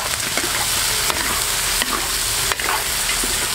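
Chicken feet stir-fried with ginger slices, dried chili and spicy sauce in a hot wok. A loud, constant sizzle is broken by a few sharp scrapes from the spatula.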